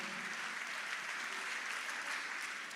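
A church congregation claps at a worship gathering, a steady wash of dense applause held at moderate level throughout without pauses.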